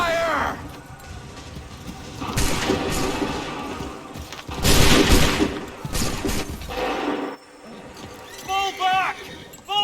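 Musket volleys crack out in an Assassin's Creed 3 battle, several loud bursts of massed gunfire rolling across the field, with shouted orders and talk between the volleys.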